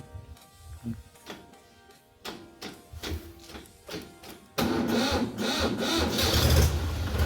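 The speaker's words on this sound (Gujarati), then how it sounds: "ટ્રેક્ટર ચાલુ નહીં થતું" A tractor engine cranks in short repeated bursts without catching, then a louder, rougher rumble takes over toward the end.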